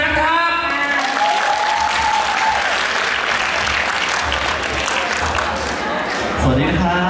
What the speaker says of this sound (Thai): ขอเสียงปรบมือต้อนรับอ๊อฟสุพนัทครับ